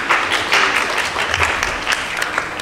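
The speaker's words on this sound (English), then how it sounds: "Let's give a round of applause for Pei-Ju," An audience at a film festival talk applauds a film director, loud dense clapping that continues steadily throughout with no voices over it.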